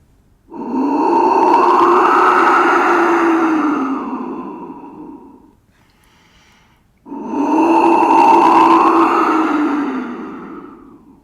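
Two long, breathy, hollow blasts from a jaguar whistle mimicking a jaguar's roar, each several seconds, separated by a short pause.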